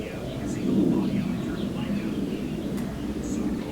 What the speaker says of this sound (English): If you can hear that plane in the background flying overhead.